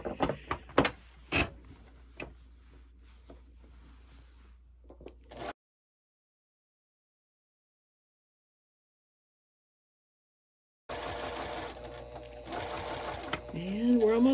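A sewing machine stitches a French seam to join a hood onto a towel, its rapid mechanical whir running in bursts with clicks, then cutting out to silence before starting again with some shifting handling noise.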